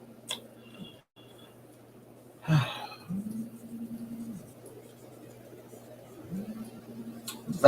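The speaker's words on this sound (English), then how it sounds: "That is the sound of my phone buzzing," A phone vibrates with two low buzzing bursts about a second long each, faint and droning, with small clicks and handling noises around them.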